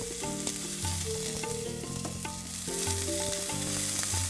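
Onion sautéing in olive oil over high heat for shrimp a la diabla, a steady close crackling sizzle with stirring noises running throughout, no voices.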